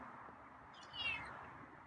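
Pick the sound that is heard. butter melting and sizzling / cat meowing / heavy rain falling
cat meowing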